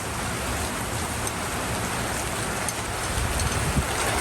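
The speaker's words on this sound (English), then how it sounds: "Yeah, it's raining pretty hard." Heavy rain pours down steadily and loudly, a dense unbroken hiss with scattered drops striking nearby surfaces, no voices over it.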